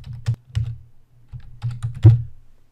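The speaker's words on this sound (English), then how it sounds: "And I can type it all on one line." Keys on a computer keyboard tapped in two short bursts of typing, close and fairly loud with brief pauses between clusters of keystrokes, no voices.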